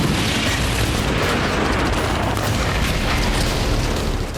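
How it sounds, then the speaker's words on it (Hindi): Dense, continuous battlefield gunfire during a Ukrainian unit's assault on a Russian position, a loud unbroken wall of overlapping shots and booms with no pauses and no voices. "ताबड़तोड़ गोलियां चल रही हैं।"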